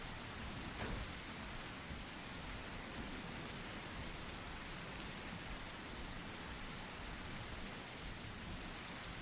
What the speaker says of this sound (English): The rain is really annoying.